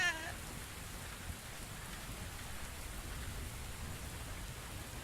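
Steady rain falls in the video game The Invisible Hours, a soft, even hiss of drops on surfaces heard at a distance and fairly faint, with no one speaking.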